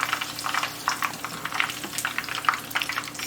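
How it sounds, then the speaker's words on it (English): Merveille dough frying in hot oil, a steady close crackling sizzle with scattered bright pops and spits running throughout, no voices. "let this fry until golden brown"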